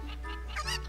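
Cuckoo chickens in Zelda: Ocarina of Time give a few short, close clucks over a steady low background hum, with a brief louder squawk near the end.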